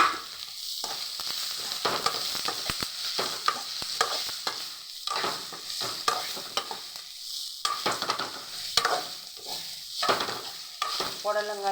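Snake gourd poriyal being stirred in a pan as it finishes cooking, close scraping of a spoon against the pan in repeated strokes over a soft continuous sizzle, no talk.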